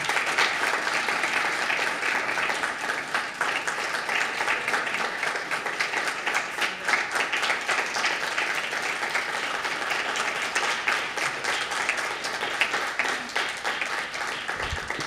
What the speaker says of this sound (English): Another round of applause for our readers